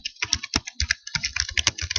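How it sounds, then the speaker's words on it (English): Rapid, uneven clacking of keys as a short note is typed on a computer keyboard, close and crisp, with no voices. "You just type whatever note you want to."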